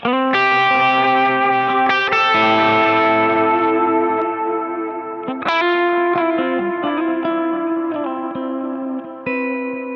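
An electric guitar played through a Kemper amp profiler with an overdrive pedal engaged, ringing sustained chords with a slightly gritty, chorused tone and echoing tails, loud and alone.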